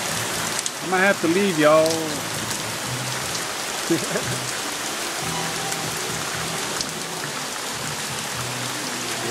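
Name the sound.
heavy rain coming down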